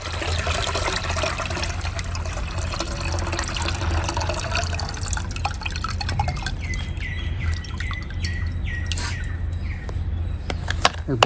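A liquid pest spray mixture for a terrace garden is filtered, a steady trickle of liquid with small drips and splashes running close by without speech.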